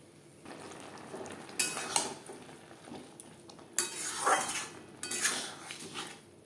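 Papaya and moong dal are stirred in a cooking pot, with scraping, clattering bursts of a utensil against the metal coming in short, loud spells and quieter gaps between.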